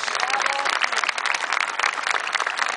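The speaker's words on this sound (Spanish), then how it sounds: "Premiémosles con un aplauso fuerte," Outdoor crowd at a Moche dance performance in Trujillo's Plaza de Armas gives loud, steady applause throughout, with a few voices mixed into the dense clapping.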